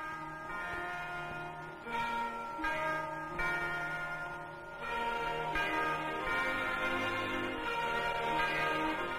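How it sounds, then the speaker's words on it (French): A school bell ringing for the start of term, a steady pealing of overlapping bell tones that carries on throughout, fairly loud and alone with no voices. "la cloche sonne pour la rentrée"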